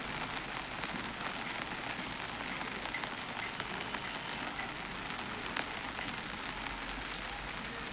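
Heavy rain pouring down in Chikkamagaluru in the Malnad hills, a dense, even roar of drops striking surfaces that holds steady throughout, with no voices.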